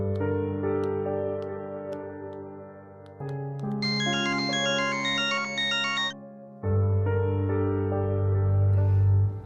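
A phone ringtone plays a bright electronic melody in distinct phrases, with a pause and a fuller, louder section near the end, clear and close with no voices.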